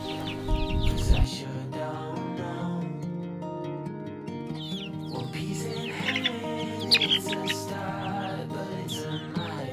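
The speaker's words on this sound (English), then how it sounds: "Hello, little chickens." Chickens cluck softly in a steady, busy background, with a few brief louder bursts and faint chirps mixed in, no talking.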